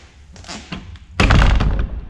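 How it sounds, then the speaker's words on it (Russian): A door being shut in a dark museum at night, a single heavy thud followed by a rattling, resonant slam, preceded by faint shuffling. "закрываем дверь."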